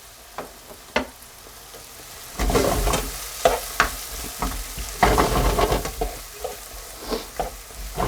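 Onions fry in an already hot pan, a quiet sizzle that swells into louder crackling midway, with scattered utensil knocks and stirring, heard close without talk.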